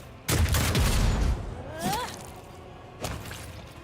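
Loud bursts of gunfire boom in the video game Warhammer 40,000: Rogue Trader, with a sweeping whoosh in between and another heavy blast near the end.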